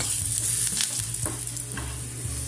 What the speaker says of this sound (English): To this, adding 1 teaspoon red chilli powder and 1 teaspoon coriander powder. Saute for a minute.